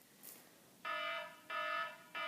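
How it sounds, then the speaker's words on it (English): An alarm clock goes off with loud electronic beeps in steady repeated bursts, each lasting over half a second with short gaps, heard close and alone. "And that was my alarm clock."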